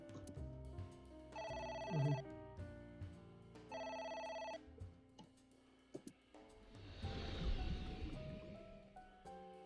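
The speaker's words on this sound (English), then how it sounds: "A phone. Should I pick it up?" An electronic telephone rings in two evenly spaced bursts inside the video game AI: The Somnium Files, over a low game music bed, followed by a louder swelling whoosh.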